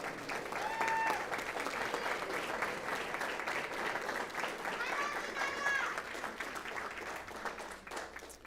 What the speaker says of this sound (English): How about a round of applause for our next students, orchestra students from Weslaco ISD?